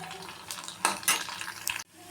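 Homemade pani puri dough discs fry in hot oil in a pan, giving a soft, low sizzle with a few brief louder bursts of bubbling and clatter, quiet overall before cutting off abruptly.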